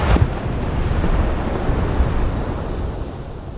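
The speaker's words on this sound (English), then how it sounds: "A powerful tail, more than 15 feet across, casually flips up and slaps the water." A whale's tail, more than 15 feet across, flips up and slaps the open ocean surface, a short splash near the start that sinks into steady surf, waves and wind noise.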